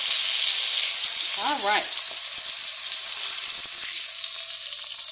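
A burger patty sizzles loudly and steadily in a favourite skillet, and a person speaks briefly over the sizzle early on.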